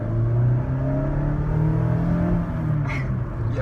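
Mazda MX-5 RF with a 118-kilowatt engine accelerating on the road, a strong, steady engine drone with rising tones, close and loud from inside the cabin.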